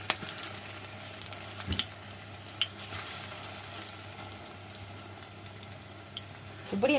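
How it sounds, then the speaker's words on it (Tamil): Bread dough frying in hot oil in a pan, a steady soft sizzle and crackle running the whole time, with a few faint clinks and splashes from near a sink. "இப்படி நான் எல்லாத்தையும் பொரிச்சு எடுக்க போகிறேன்"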